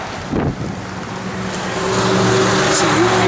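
A 1967 Chevrolet Chevelle SS engine running, a steady low rumbling idle heard nearby with wind buffeting the microphone, growing slightly louder toward the end.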